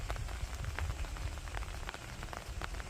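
Rain falls steadily in an apple orchard in Mungyeong, Korea, a dense constant patter of drops on surfaces over a low outdoor rumble, with no voices.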